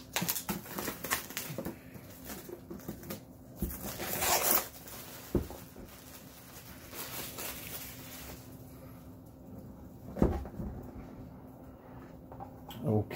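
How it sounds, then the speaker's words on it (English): The Fantastic Factories board game box is opened and unpacked up close: cardboard scraping, plastic wrap crinkling and tearing, and the rustle and knock of contents being handled, with louder bumps here and there and no talk. "let's go ahead and open up the main box here"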